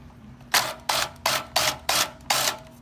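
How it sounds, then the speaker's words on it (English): An impact driver tightens spark plugs on a Porsche 911 997.2, rattling out six quick, evenly spaced bursts close by. "we're just going to drive them home real quick with the impact driver"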